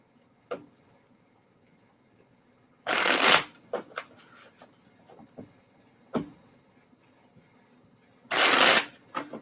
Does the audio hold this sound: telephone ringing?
no